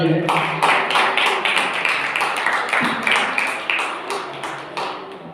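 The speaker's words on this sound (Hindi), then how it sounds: "उनके सम्मान में एक बार ताली बजा देंगे सब जो है" An audience at a poetry gathering claps in steady, dense applause that stays loud for several seconds and then gradually thins, with a voice speaking over part of it.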